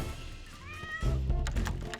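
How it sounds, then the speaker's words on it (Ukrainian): A pet cat meowing indoors, a single drawn-out close meow with a rising then falling pitch, followed by soft thumps and rustling movement. "Котик"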